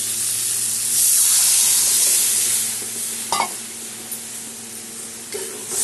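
Boiled red lentils, masoor dal, going into a sizzling pan: a loud, close frying hiss that swells and then settles, broken by a few brief stirring clatters, with no one speaking.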